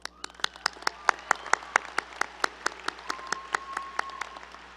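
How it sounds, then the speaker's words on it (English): Audience at a high school graduation claps in a steady, evenly spaced rhythm, sharp individual claps standing out over a faint crowd background. "So a round of applause to us."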